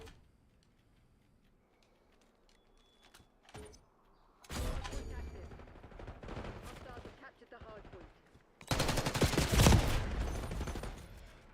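Bursts of assault rifle fire in the video game Splitgate, a few scattered shots early on, then sustained loud automatic volleys near the end.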